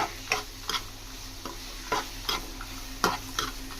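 Raw mango pieces with turmeric cooking in a pan over medium flame for mango pulihora, a soft steady sizzle broken by regular stirring scrapes and taps of a spoon about twice a second.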